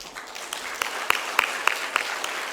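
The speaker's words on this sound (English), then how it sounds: "Please give them a round of applause." Conference audience applauding at a Korea–Indonesia offshore congress, a steady wash of clapping with a few sharper claps standing out, moderately loud with no talk over it.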